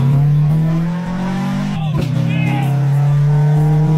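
A car engine holds a loud, steady high rev during an attempted burnout with clutch dumping, the exhaust droning close and constant with a brief dip and surge midway.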